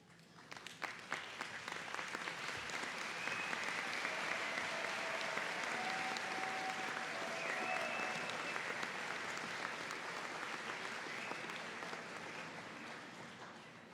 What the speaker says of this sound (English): face the audience, and you give all of your supporters a round of applause